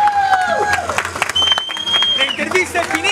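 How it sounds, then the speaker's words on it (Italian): An audience applauds the president at an event, with clapping and some cheering while voices talk over it, loud and close. "Allora, un applauso al presidente,"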